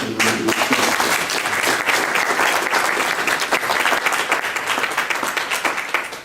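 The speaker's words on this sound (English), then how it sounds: "I really think you ought to give him a round of applause for this" An audience gives a steady, loud round of applause at a talk on predicting and preventing violence, with dense continuous clapping that lasts throughout.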